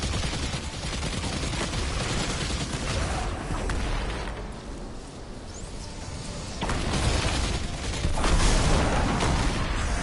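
Sustained gunfire from a gun in Destiny 2 rings out as a dense, loud rapid stream of shots, dipping briefly midway before swelling again toward the end.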